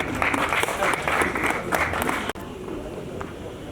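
Dense, lively audience applause fills the opening seconds at a celebration hosted by an MC, then cuts abruptly and gives way to quieter crowd murmur.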